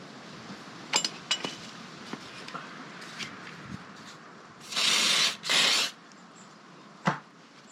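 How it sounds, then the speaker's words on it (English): Silicone spray can aimed at a BMW R1200GS motorcycle part during a workshop service, two loud hissing bursts back to back after scattered metallic clinks of tools. "Silicone spray."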